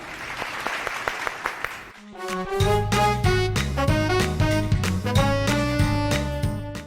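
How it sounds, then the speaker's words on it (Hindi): A short burst of studio audience applause on a TV talk show for about two seconds, then a bright musical jingle plays over the fading clapping. "तालियां।"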